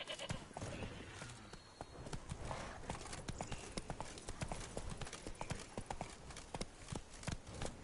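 Horse hooves clip-clop in Witcher 3: Wild Hunt, a quick steady galloping rhythm of sharp hoof strikes over rough ground, close and continuous, with a faint snort or whinny mixed in.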